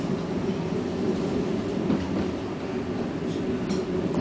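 ŁKA regional train pulling away from Koluszki station, a steady rolling rumble of the carriage heard from onboard, with faint wheel clatter and a few light squeaks toward the end.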